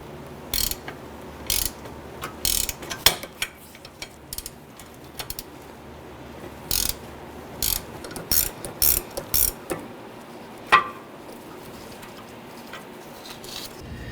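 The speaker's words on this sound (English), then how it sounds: "it'll be ideal if you have a gear wrench or ratchet wrench or something like that to go ahead and start zipping these out." A ratchet wrench spins out the rear upper control arm bolts on a 1999-2004 Jeep Grand Cherokee, with short bursts of quick, close metallic clicking separated by brief pauses and quieter workshop background.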